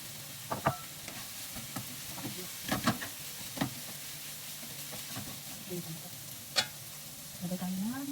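Chicken frying in a pan with a steady low sizzle, punctuated by clacks and scrapes of stirring and utensil knocks at irregular intervals.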